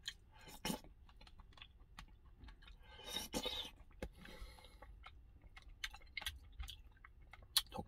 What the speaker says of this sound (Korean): 덕분에 쇠고기죽 아주 맛있게 먹습니다.